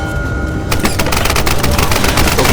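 Dense, loud gunfire from Tomb Raider (2013) video game combat: a rapid automatic rattle of shots packed together with echoing crackle, continuous throughout with no speech.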